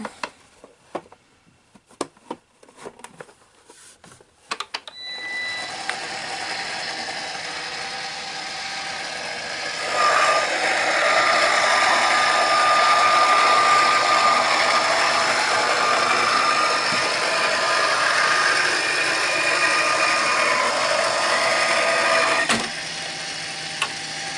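A die-cutting machine presses a paper rose-shaping mold, starting after a few handling clicks as a steady mechanical whir that swells midway and then stops abruptly near the end.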